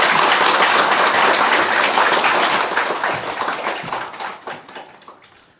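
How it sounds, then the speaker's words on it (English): Loud, dense applause from a large crowd welcoming a keynote speaker at Beijing Normal University, steady at first and then gradually tapering off toward the end. "Let us welcome Kenpo Sodagje with a warm round of applause."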